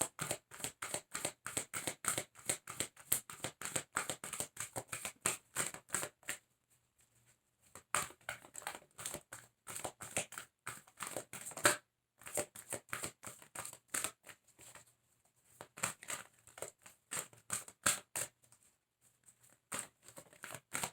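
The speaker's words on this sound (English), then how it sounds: "One more card for Gemini." Tarot cards are shuffled and drawn in quick papery bursts of riffling and flicking, close and soft, broken by short pauses between handfuls.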